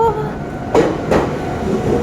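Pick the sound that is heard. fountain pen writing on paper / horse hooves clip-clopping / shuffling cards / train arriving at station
train arriving at station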